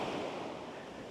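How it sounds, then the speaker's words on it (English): Choppy ocean waves break on windy Laem Son Beach on Koh Mak, Thailand, a short burst of broad, rushing surf mixed with gusty wind noise, with no voices. "it's windy and the waves are really choppy today"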